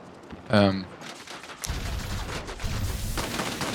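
Heavy cannon and machine-gun bursts from a Ki-94-I Japanese heavy fighter in a flight combat game, a dense rapid rattle that starts abruptly partway through and continues loudly, with a brief voice-like tone just before.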